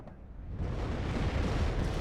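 Artillery explosions in the real-time strategy game WARNO rumble as a dense, continuous low roar of blasts that swells after a brief quieter start, with no voices.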